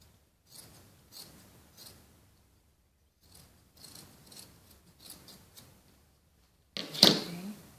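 Scissors trim the ear of a sock bunny in a run of short, crisp snips, several quiet cuts spaced a second or so apart. A louder, sharper snap closes the sequence.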